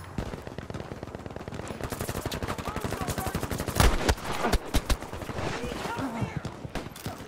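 Dense automatic and single-shot gunfire from the World War II shooter Battlefield V, rapid bursts and heavy cracks throughout under a player's voice talking over the fight.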